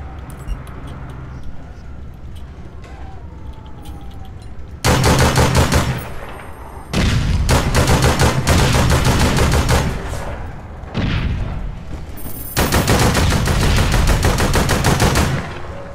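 Bursts of automatic gunfire from the online game APB Reloaded, loud sustained volleys that start and stop several times over quieter game ambience, with no talking.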